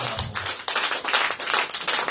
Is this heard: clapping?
yes